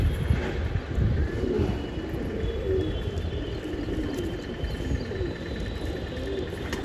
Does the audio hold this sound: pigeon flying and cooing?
yes